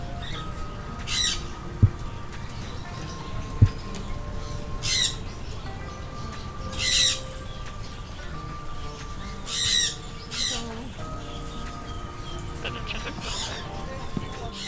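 An exotic parrot in Grand Cayman gives a series of harsh squawks and short vocal calls, spaced out over steady wind noise, with people talking softly nearby.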